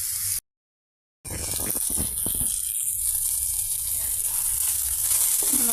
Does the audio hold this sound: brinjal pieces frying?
yes